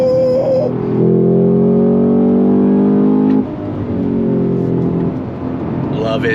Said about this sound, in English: The engine spins so freely.